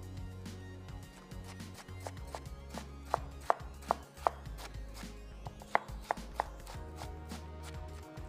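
Partly frozen meat being finely chopped into mince with a knife on a board: fast irregular thuds, some sharp and loud, close up with no talk.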